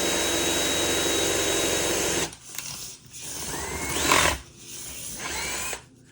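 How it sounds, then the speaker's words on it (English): A high-pitched Dremel rotary tool whines steadily for two seconds, then comes in short bursts with brief pauses as it polishes ukulele frets with polishing compound. "I polished them first with some real high grits of sandpaper and then with some polishing compound and the Dremel."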